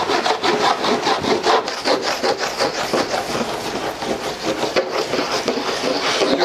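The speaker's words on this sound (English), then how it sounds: "let's wax it up and give it a go" Surf wax rubbed briskly onto a Firewire Seaside Machado surfboard, a dense run of rapid, rhythmic scraping strokes that stays loud and close throughout with no talk.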